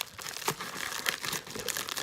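Plastic packaging of Pure Natural Cleaners being cut open with scissors, a close, steady crinkling and rustling with a few sharper snips, no talking.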